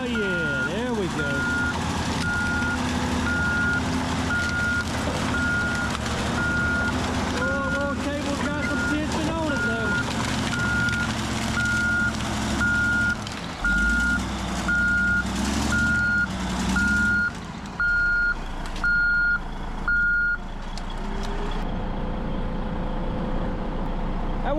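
A John Deere machine at a wood recycling yard gives off a steady series of reversing beeps, evenly spaced and loud. They sound over heavy engine rumble and wind noise and stop toward the end, with a person talking nearby.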